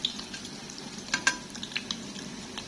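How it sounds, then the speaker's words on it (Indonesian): Tongkol tuna fish frying in a pan, a steady close sizzle of hot oil broken by scattered sharp crackles and pops. "Itu tongkolnya masih ada. Aku goreng aja ini."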